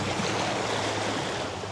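The current of Cockatoo Creek flows past in a steady, broad rushing wash, close and continuous, with no voices over it.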